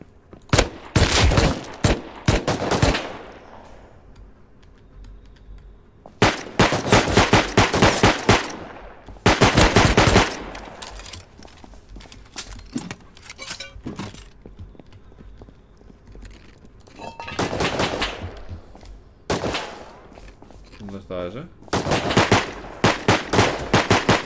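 A first-person shooter game erupts in repeated bursts of rapid automatic gunfire, loud and close, separated by quieter gaps with faint background rumble, the volleys recurring irregularly throughout.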